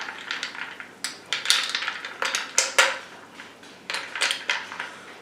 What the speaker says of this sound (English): So about 12 spins with the bar spoon.